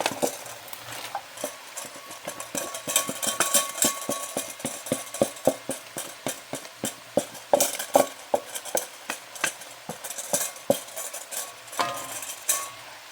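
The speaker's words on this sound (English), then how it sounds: "Now in here I've got the carrots, onions, green peppers, and we're going to throw all these in." Chopped carrots, onions and green peppers go into a cooking pan, followed by repeated clinks and scrapes of a utensil stirring the vegetables over a faint sizzle, an irregular rhythm of sharp taps with no talk.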